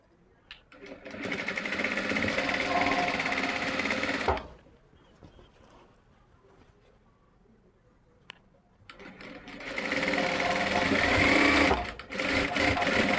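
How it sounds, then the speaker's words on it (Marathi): A sewing machine stitches a pocket onto palazzo pants in two loud bursts separated by a quiet pause, with a person speaking faintly near it. "व्यवस्थित जोडून शिलाई करायची आहे"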